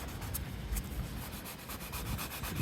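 Sandpaper scrapes clear coat off a Toyota Yaris car body in quick, repeated rubbing strokes, close and fairly loud, the gritty back-and-forth pulses continuing without talk.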